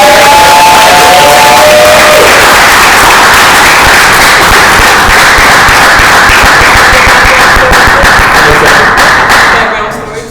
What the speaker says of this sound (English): please give this young lady a round of applause